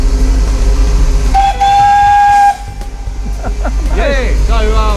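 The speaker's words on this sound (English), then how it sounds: "Just blow the whistle." A steam locomotive whistle on the Wilderness West Coast Railway gives one long clear blast, heard close and loud over a steady low engine rumble and hiss, followed by more hissing and voices talking nearby.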